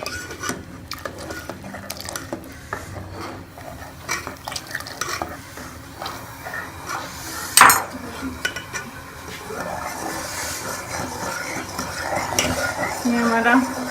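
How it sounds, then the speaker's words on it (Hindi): A spoon stirs custard mixture in a pot with steady scraping and soft clinks at close range, along with a faint simmering hiss and one louder knock partway through. "अब हम इसके अंदर कस्टर्ड को ऐड करेंगे और साथ साथ चम्मच चलाते जाएंगे"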